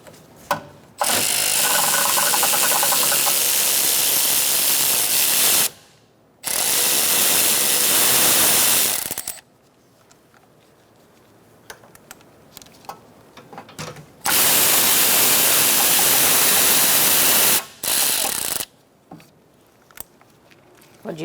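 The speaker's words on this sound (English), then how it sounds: "We're going to disconnect our lines using a 10mm socket." A power ratchet with a 10mm socket runs off nuts on an AC condenser line of a 2014–2019 Kia Soul 1.6L. Three long, loud, whirring bursts come close up, separated by quieter workshop clicks and handling noises.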